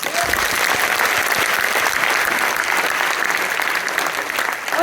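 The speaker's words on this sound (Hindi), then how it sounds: "तो एक बार जोरदार तालियां।" A seated audience at a marketing plan seminar breaks into loud, steady applause, dense clapping sustained evenly for several seconds with no talk over it.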